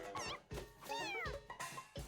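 A cartoon kitten in the cat-breeding video game Mewgenics gives several bright, quick meows with rising and falling pitch, close and clear, with no talk over them.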